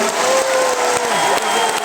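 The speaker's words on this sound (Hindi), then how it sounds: "एक बार जोरदार ताली इनके लिए बजा दीजिए थोड़ा।" A dense crowd applauds loudly and continuously at an outdoor Indian political rally in Moradabad, a steady wash of clapping filling the whole moment.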